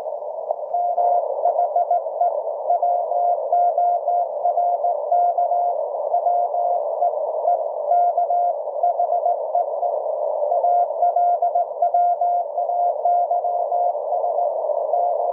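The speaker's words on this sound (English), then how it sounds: "We'll tune around and see if we can find a signal that we can copy." Steady CW Morse tones come through a TR35 QRP transceiver, a clear single-pitch keyed signal continuing throughout with short regular breaks, alone and with no talk.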